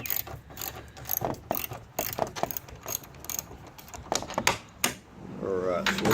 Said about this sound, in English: I just got a little 1/4 inch ratchet